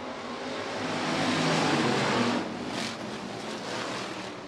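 USRA Hobby Stock race cars in a heat race at Rapid Speedway, a dirt oval: a dense, continuous roar of engines that swells as the pack passes, then eases slightly, heard from a distance with wind noise and no talking.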